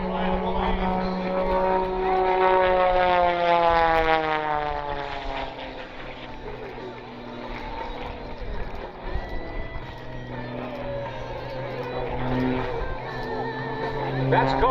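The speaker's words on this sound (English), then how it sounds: "Let's watch Bill Stein fly the plane." An Edge 540 aerobatic plane with a Lycoming engine flies a spiraling tower at an air show, its propeller drone sweeping in pitch as it passes and fades, then swells back with faint crowd noise underneath.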